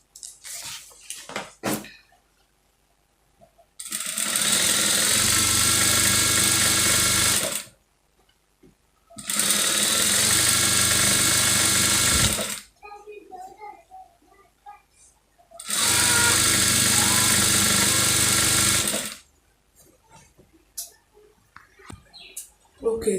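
Sewing machine stitching satin lining onto a lace dress, three sustained bursts of steady mechanical whirring of about four seconds each, separated by quiet pauses with small handling clicks.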